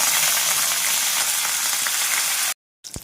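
Mustard seeds, asafoetida and curry leaves hitting hot oil in a pan for masala brinjal, a loud dense sizzle and spatter that cuts off abruptly, then a short burst returns.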